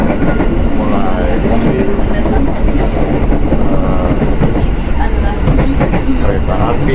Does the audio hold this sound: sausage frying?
no